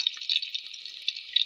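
Onions frying with fenugreek in a pan give a faint, steady high sizzle with small crackling pops, heard close and alone.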